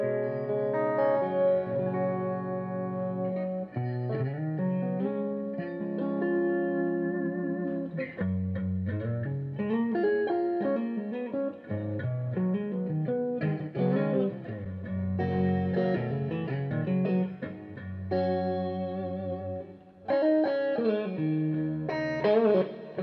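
Clean electric guitar through a boutique Mezzabarba tube amp's clean channel, playing sustained chords and melodic lines, warm and full-bodied with no distortion, steady and loud throughout.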